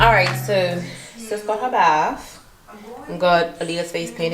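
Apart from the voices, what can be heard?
No distinct noise like a dog, phone or traffic.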